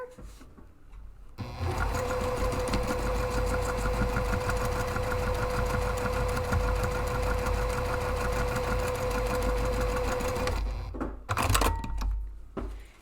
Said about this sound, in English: I stitched a nice X right through the center of that